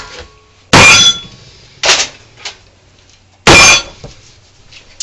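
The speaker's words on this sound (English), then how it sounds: "give it a good smack on the counter" A loaf pan of zucchini bread batter smacked on a counter, three loud, sharp, close bangs with ringing metallic tails and a faint light clink between them.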